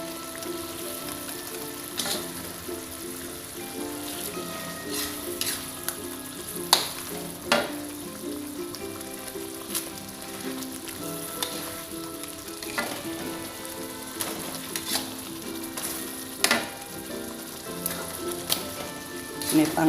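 Eggs frying in a cooked spiced sauce for an Indonesian sweet soy egg dish, giving a steady, fairly quiet crackling sizzle throughout with scattered louder pops and spatters and no speech.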